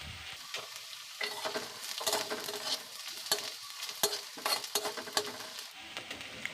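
Chopped onion fries in hot oil with cumin and dried red chillies, a crisp sizzle broken by repeated scraping strokes of a spatula against the pan, close and fairly quiet, with no voices.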